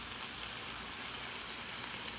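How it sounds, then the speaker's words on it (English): Stuffed bacon cheeseburgers sizzle on a Blackstone flat-top griddle, a steady dense hiss of frying fat with no breaks, close and even in level. "we're starting to sizzle off pretty nicely"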